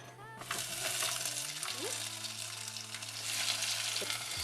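Zucchini, tomatoes and onions sizzle in a hot pan for a healthy pancake dish, a steady frying hiss that swells louder after the first half-second, with a low hum and faint clinks underneath.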